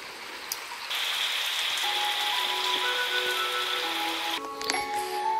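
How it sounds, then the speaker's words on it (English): A shower running in the Roblox game Fantasia, a steady hiss of spraying water that starts abruptly and holds at an even level, with light clinks and tones near the end. "someone left the shower on just for me"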